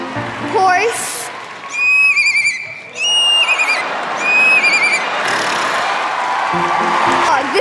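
An 11-year-old child imitates a horse neigh on stage with high, shaky whinnying calls in several bursts, followed by a crowd cheering and applauding loudly.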